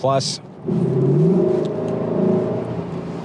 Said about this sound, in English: I'm going to pop it up to Sport S+